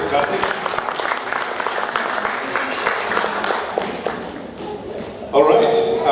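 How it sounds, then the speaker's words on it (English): A theatre audience at a mono acting festival applauds a performer with sustained dense clapping, loud and close, and a brief surge toward the end. "Big round of applause, please."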